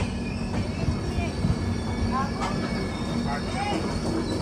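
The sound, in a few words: train passing railway station, probably Jan Shatabdi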